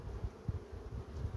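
Hungry honey bees swarm onto a hive frame of honey, their steady low buzzing a close, continuous hum with small swells.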